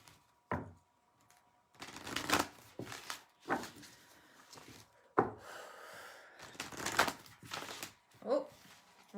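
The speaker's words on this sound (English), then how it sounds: "I'm gonna stop shuffling those" A deck of tarot cards is shuffled by hand, with repeated bursts of riffling and slapping card noise separated by brief pauses, close and fairly quiet.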